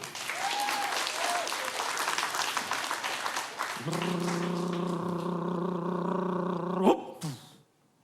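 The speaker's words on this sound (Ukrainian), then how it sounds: "Ваші оплески, друзі!" An audience at a Ukrainian comedy show applauds with dense clapping for about four seconds. A loud held tone then takes over before the sound cuts off.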